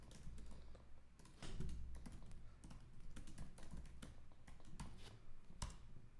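Rapid, quiet keystrokes patter across a computer keyboard in an irregular stream, close by and alone with no voices.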